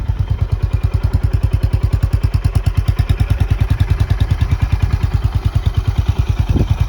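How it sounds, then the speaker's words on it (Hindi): A Honda H'ness 2022 motorcycle engine idling close by, a steady rapid loping thump with a slight clatter, loud and even throughout. "आइडल में ये ऐसे साउंड करती है।"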